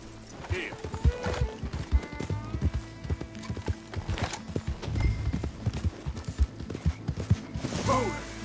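Horse hooves clip-clop at a steady walking rhythm in the video game Red Dead Redemption 2, with a soft whinny or two mixed into the close, busy hoofbeats.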